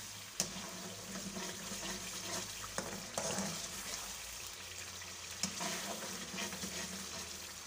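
Masala spices frying in oil for a fish curry, a steady close sizzle with stirring scrapes and a few sharp clinks of a spoon against the pan, no talking.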